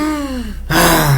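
A voice imitates deep, rapid Kussmaul breathing, one long loud breath drawn in and then a forceful breath out, close and alone.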